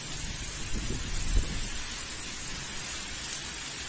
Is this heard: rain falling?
yes